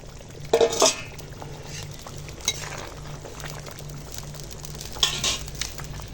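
Pieces of fried katla fish go into bubbling curry broth with ridge gourd and potato, landing with a couple of loud splashes and clinks over a low, steady simmering bubble.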